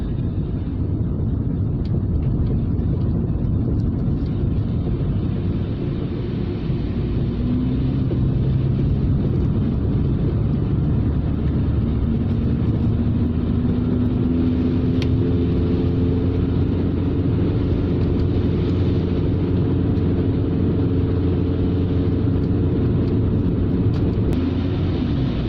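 A car driving on a snowy winter road, with a steady, loud, low engine and road rumble from inside the cabin that continues unbroken, the engine note slowly rising and falling.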